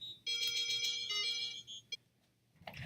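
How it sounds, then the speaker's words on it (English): A phone ringtone plays a bright, chiming electronic melody of repeated tones for about a second and a half, then cuts off, leaving quiet room sound and a faint rustle at the end. "My phone always seems to ring."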